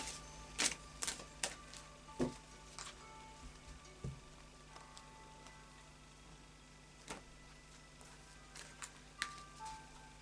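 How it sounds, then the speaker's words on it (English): A deck of Fairy Oracle cards by Brian Froud being shuffled by hand, faint close-up soft taps, flicks and riffles in irregular bursts against a quiet room. "Final shuffle now of the Fairy Oracle cards by Brian Froud."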